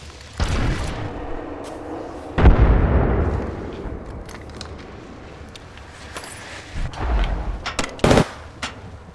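Apex Legends gameplay with a frag grenade blast and gunfire: loud booming explosion after short bursts of shots, then scattered sharp gunshots and pops at varied distances.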